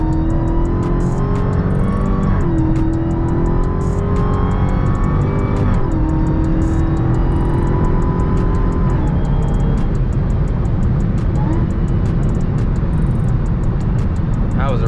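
A 2020 Dodge Charger SRT Hellcat Widebody accelerating hard, its supercharger whine and engine note rising through several gear shifts close by, with someone talking over it.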